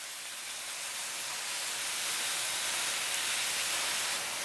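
Pork belly sizzles on a grill with a dense, even hiss that swells slightly and holds steady, close up, with no talk over it.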